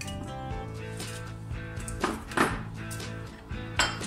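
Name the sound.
emptying chiles and pepper from jars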